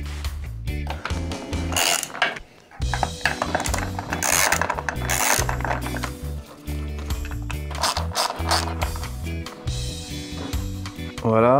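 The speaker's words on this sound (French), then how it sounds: "On prend la clé à pipe." A socket wrench with a 10 mm socket works on a very tight bolt while the air filter is taken off an engine. Repeated close ratcheting bursts alternate with brief pauses and scraping mechanical clicks.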